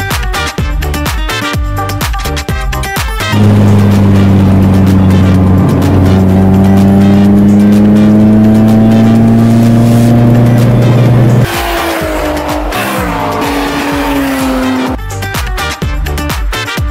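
BMW cars race at the Indonesian BimmerFest 2023, with a loud, close engine revving hard through rising gear pulls, a long sustained wail and tire squeal, then more revving, and no voices.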